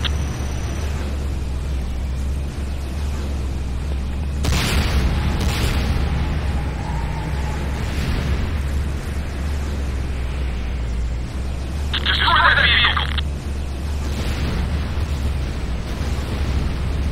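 Booming explosions hit a structure under attack in a Command & Conquer Renegade-style battle, with several dull blasts and rumbles over steady low engine drone and a bright burst midway.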